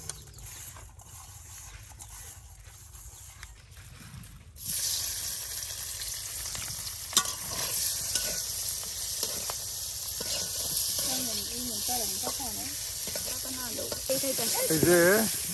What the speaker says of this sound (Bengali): এই যে দেখেন মাছগুলি কিন্তু তেলের সাথে মাছের টুকরাগুলি ভাজা নেওয়া হচ্ছে